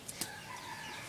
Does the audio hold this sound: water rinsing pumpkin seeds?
no